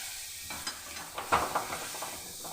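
Spice paste with turmeric powder and tomato paste being fried and stirred in a pan for chicken kosha, a low sizzle broken by several clear scraping strokes of a spoon, no voices.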